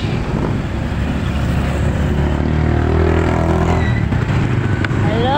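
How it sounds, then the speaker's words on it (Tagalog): Busy early-morning street traffic, with close, loud engine rumble from passing cars and motorcycles and a vehicle accelerating by, all steady throughout. "Hello, traffic."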